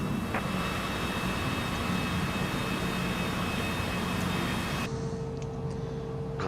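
A jet airliner in Microsoft Flight Simulator 2024 rolls for takeoff, giving a steady, dense engine roar that fills the whole stretch, with a shift in tone near the end.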